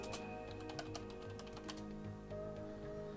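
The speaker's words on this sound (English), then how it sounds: "Okay, I'm typing a message." Quick, irregular keystrokes on a computer keyboard while a message is typed, fairly quiet and close over a steady background hum, with no one talking.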